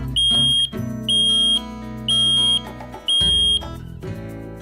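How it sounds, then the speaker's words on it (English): A smoke alarm's test button sets off a loud, piercing beep that repeats four times in even pulses, each about half a second long, with short gaps between. "pressing the test button to make sure the alarm is working."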